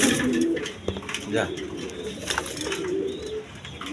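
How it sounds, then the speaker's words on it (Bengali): A pair of young adult Giribaz pigeons, male and female, coo softly while someone talks over them throughout. "বন্ধুগণ এইখানে এক পেয়ার গিরিবাজ কবুতর আছে"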